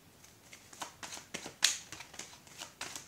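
Cards shuffled for a tarot-style reading, a rapid run of crisp riffling flicks and soft slaps repeating through the moment, close and fairly quiet, with one sharper snap midway and no talking.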